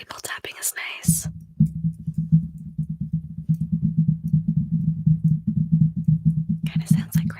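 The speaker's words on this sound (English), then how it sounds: "Table tapping is nice." Fingers tap rapidly on a table, a soft, close, rain-like patter of dull knocks, framed by whispered talk at the start and end.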